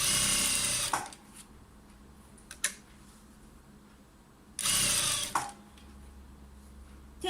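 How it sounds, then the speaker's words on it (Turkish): A sewing machine stitching elastic beneath an overlock seam runs in two loud bursts of about a second each, separated by quieter pauses with small clicks and handling noises. "Overlock dikişinin altından lastiğimi dikiyorum."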